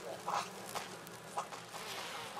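Bees in the Resident Evil remake video game hum in a low, continuous insect drone, with a few louder buzzing swells as they fly close, faint and without talk.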